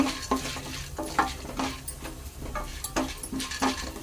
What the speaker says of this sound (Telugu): మంచిగా వేగినాయండి